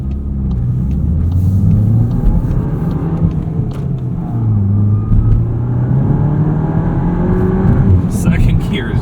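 Engine of a tuned 2022 VW GTI MK8 with a six-speed manual pulls hard through second gear, a loud interior drone rising in pitch, dipping at a shift, then climbing again, with brief chirps near the end.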